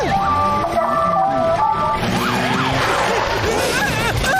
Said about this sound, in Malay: Tak tahu pun siap bunyi siren dan ada lampu menyala-nyala.